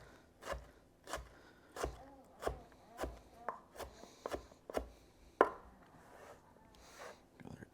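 A knife chops tomatoes on a cutting board in a home kitchen, a dozen crisp, evenly spaced thuds up close with one sharper knock near the end, no one speaking.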